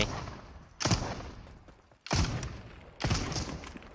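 Gunfire from a gun in the video game Super People comes in three loud, sustained bursts, each lasting about a second and each starting with a sharp attack, over a dense background of game noise.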